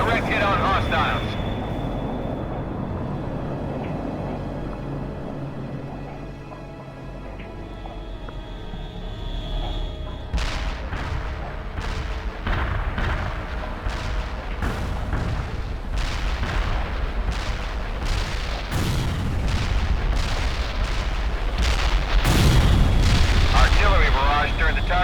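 A tank buster airstrike in the real-time strategy game World in Conflict brings a rolling series of deep booms and sharp impact cracks over a steady low rumble. Radio voices talk over the barrage.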